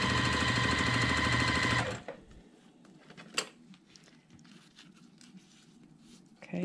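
A sewing machine piecing quilt blocks runs in a steady rapid burst for about two seconds and then stops, leaving faint handling clicks and rustles.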